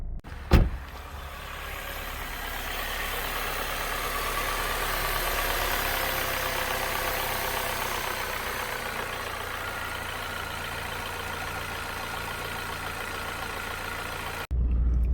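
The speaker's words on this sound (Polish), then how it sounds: "I autko się fajnie zbiera. Fajnie reaguje, nie trzęsie i nie szarpie." A Saab 9-3 car engine, running smoothly after its ignition coils were replaced, hums steadily while driving, a continuous close drone with a brief knock at the start and no talking.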